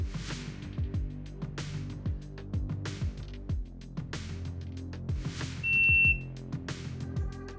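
A Drills App shot timer sounds its end signal, a short electronic beep near the middle of the clip, over steady background music with a strong rhythmic beat.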